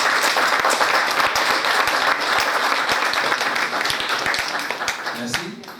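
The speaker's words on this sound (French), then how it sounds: "je demanderai qu'ils se soulèvent pour que nous puissions les accueillir et applaudir" A conference audience applauds the French federation delegation with loud, dense clapping that carries on without a break, with a few sharper individual claps standing out before the sound starts to fade.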